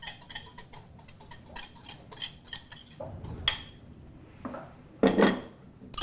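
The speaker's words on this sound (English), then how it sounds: "Just mix it together until everything's coated and covered." Wet and dry granola ingredients are stirred together in a bowl, giving a quick series of irregular clinks and scrapes of a utensil against the bowl, close and fairly crisp, with a heavier clatter near the end.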